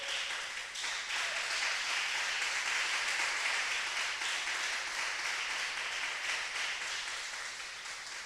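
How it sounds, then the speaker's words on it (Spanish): Church congregation applauding during a sermon, a steady, faint wash of many hands clapping at a distance, sustained evenly throughout with no voices on top. "Aplauda a Jesús."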